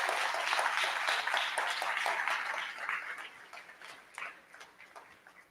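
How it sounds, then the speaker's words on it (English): Applause from a crowd at a ribbon cutting ceremony, loud at first, then thinning out and fading over about five seconds with a few scattered claps near the end. "if we can give a round of applause to my mentor, Maggie McIntosh, please."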